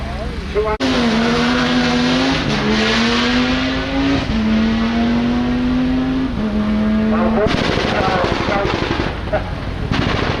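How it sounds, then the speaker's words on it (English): A rally car on the Lombard Rally stage at Weston Park roars loudly and close, engine note rising and falling through gear changes with crackling pops, then a harsher burst as it passes. "this is some sort of car"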